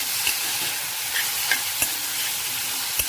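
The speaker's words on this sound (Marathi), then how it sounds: "गॅस थोडासा हाय ठेवलेला आहे, भाजी परतूच तोपर्यंत।" Beet greens sautéing in a pan over fairly high heat, a steady sizzle with soft intermittent scrapes and clicks of a stirring utensil, close and alone.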